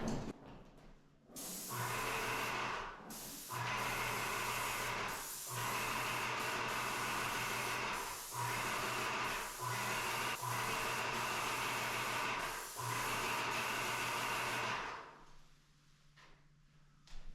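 Airless paint sprayer hissing loudly in repeated bursts of a few seconds each, with brief gaps between passes as the fan of paint is swept across apartment walls during a renovation.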